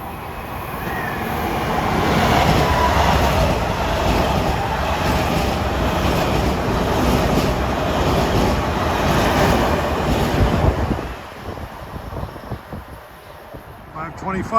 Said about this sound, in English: approaching now at 5:20 is my good buddy, train 1056